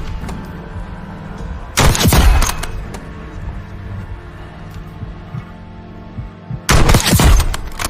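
SR-M1903 sniper rifle fire in Call of Duty: two loud, sharp single shots about five seconds apart, each with a booming tail, over a quiet low background hum.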